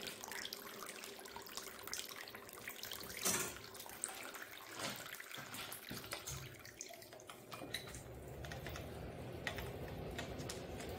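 Water trickles and gurgles quietly as it drains from an Elektra Semiautomatica espresso machine, with faint drips and small clatters, fairly close and without any voices.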